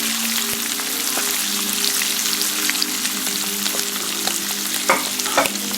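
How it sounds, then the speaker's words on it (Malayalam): Chicken mixture for kabsa frying in a pan, a loud steady sizzle with a low hum beneath and occasional scrapes of the spoon, close and without speech. "ഇതിലോട്ട് തയ്യാറാക്കി വെച്ച ചിക്കൻ കൂട്ട് ചേർക്കുക."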